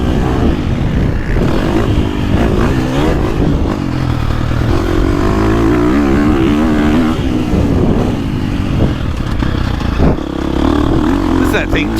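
A dirt bike, either a 24.5 KTM 450 Factory Edition or a 2024 Husqvarna FC350, is ridden with a loud, continuous engine drone that rises and falls with the throttle, close to the mic, while a rider talks over it.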